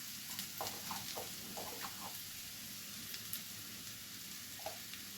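Spices fry in a pan for a boneless chicken gravy, giving a steady soft sizzle while a few light scraping stirs come through early and then thin out.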